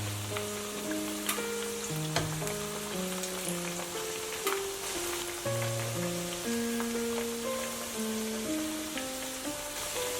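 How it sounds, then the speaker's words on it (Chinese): Sweet potato and egg cakes deep-fry in hot oil with a constant fine crackling sizzle and occasional sharper pops, running under a melodic background music track. "再没入热油中炸至定型，自动脱落"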